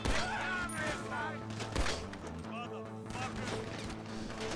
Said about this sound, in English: The fuck is shooting me?